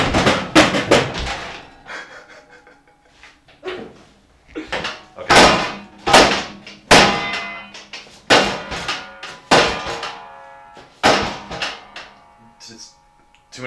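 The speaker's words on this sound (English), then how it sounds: "now whack into that with your knee a few times." A knee whacks repeatedly into a foley prop in a sound effects session, giving a series of loud, close, hollow bangs and clangs with talking in between.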